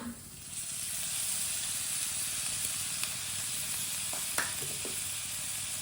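Chopped green coriander being stirred into spices that hiss and sizzle steadily in a pan on low heat, with a few brief scraping clicks of the spoon partway through and no talking.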